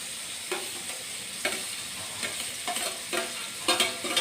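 Tomato puree goes into a hot pan of onion and garlic for a Mysore dosa masala filling. A steady hiss of frying runs underneath, broken by a series of scraping stirs and soft splutters at close range, with no voices.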